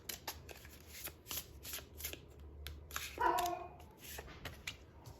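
Tarot cards being shuffled in rapid crisp riffles and flicks close by, with a dog barking and whimpering briefly in the middle of the shuffling.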